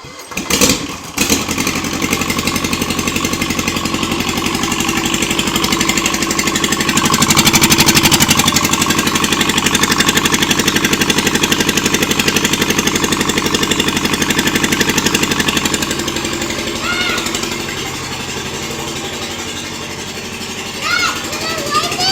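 A John Deere 316 diesel lawn tractor cranks with a few sharp bursts, then its engine catches and runs in a steady, loud rumbling idle that rises and dips slightly, with some talk over it.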